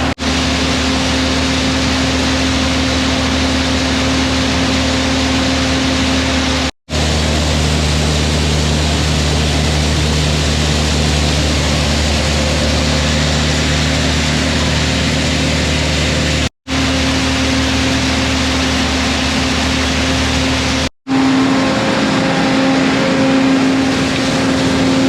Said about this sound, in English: That's a 5065E John Deere tractor,